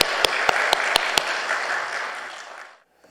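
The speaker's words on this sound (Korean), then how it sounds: "우리 박수로 환영하겠습니다" A church congregation applauds to welcome a visiting pastor at an afternoon worship service. Dense clapping from a crowd is punctuated by a few sharp, evenly spaced claps, then fades out and falls silent after nearly three seconds.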